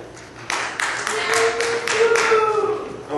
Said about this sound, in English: Clap if you like his haircut.